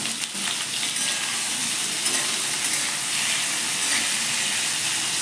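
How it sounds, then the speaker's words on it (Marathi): Onion and tomato sautéing in a pan for dhaba-style butter paneer give off a steady, close sizzle and hiss that runs unbroken throughout, with no talking. "आणि त्याला आपण छान असं परतून घेऊया."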